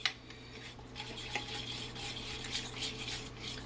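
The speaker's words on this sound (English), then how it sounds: "I'm going to start to stir this around." A spoon stirs flour-and-water batter for Korean seafood pancake in a bowl, giving soft, continuous scraping and clinking close by with faint background hum.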